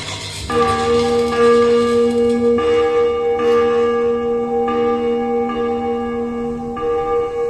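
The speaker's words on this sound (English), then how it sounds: "The big bell atop the central tower would toll, marking the moment of each execution." A big bell in the central tower of Cellular Jail in the Andaman Islands tolls during a light and sound show, with one loud ringing strike and then a long humming decay that hangs in the air for several seconds.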